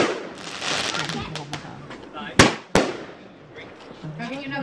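Bonfire night fireworks crackle and pop through a busy outdoor scene, with two sharp, loud bangs standing out near the middle and people talking throughout.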